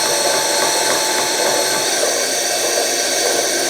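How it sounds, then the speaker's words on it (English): A loud power drill whines steadily and continuously at close range, grinding without pause while drilling small holes in a knife's metal pommel nut. "Drill 2 small holes in the pommel nut"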